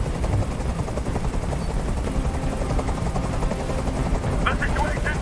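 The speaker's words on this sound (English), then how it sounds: "can't stand that noise anymore! Tell that helicopter to get out of here!" A video game helicopter's steady rotor drone fills the scene, with busy background noise and a few brief sharp high sounds near the end.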